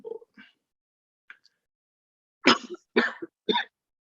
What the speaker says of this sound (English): Yes, a bit of cough, but okay.